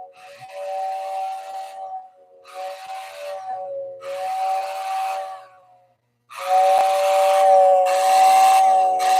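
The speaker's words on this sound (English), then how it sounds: "That's a 1950s motor blown over a flute type system. A whistle." A 1950s motor-blown, flute-type whistle sounds in several sustained steady-pitched blasts with short gaps between, the last one longer and louder, close and strong with no talk.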